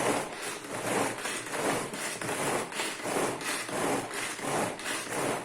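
A Tupperware Extra Chef pull-cord chopper mixes a Speculoos spread, making repeated rhythmic rasping pulls about twice a second, each a rough scraping whir, close and steady throughout.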